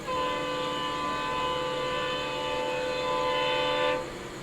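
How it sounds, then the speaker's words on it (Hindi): A superfast special passenger train hauled by a diesel locomotive, heard near Ratlam, passes close by. It is a loud, steady roar with sustained tonal horn-like bands for about four seconds, then drops off abruptly. "और पीछे से आ रही है बांद्रा अजमेर सुपरफास्ट स्पेशल। ये तो डीजल लोकोमोटिव के साथ आ रही है।"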